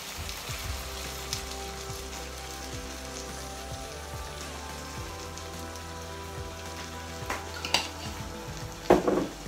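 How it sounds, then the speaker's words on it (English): Lasagna filling being stirred and cooked in a pan for an affordable home lasagna, a steady low sizzle with soft repeated scrapes of the spoon, a few louder clatters near the end. "Stir them well. Cook them for about 5 minutes."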